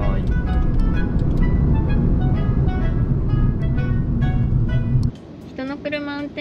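A car's interior carries a loud, steady rumble of road and engine noise for about five seconds before it drops away abruptly, with people talking over it.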